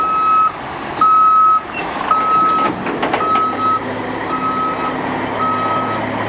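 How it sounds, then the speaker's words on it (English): A huge truck backs up along a narrow residential street, its reversing alarm sounding a series of loud, evenly spaced beeps over a low engine rumble and clanks. "this is like a gigantic truck backing up right into me"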